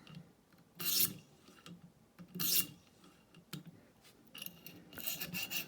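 A Cruwear steel knife is drawn along a stone on a ViperSharp guided sharpener to remove the burr, giving several rasping strokes that come in bursts with short pauses between them. The strokes sound close and fairly quiet.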